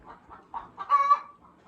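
A hen clucking close by, a run of short soft clucks rising into a louder drawn-out squawk in the middle before settling back to quiet clucks.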